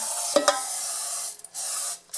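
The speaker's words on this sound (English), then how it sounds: "I'm going to spray it with olive oil to prevent the" Olive oil cooking spray hisses in a steady close burst onto a deep baking pan, broken by a couple of short pauses and a faint clink near the start.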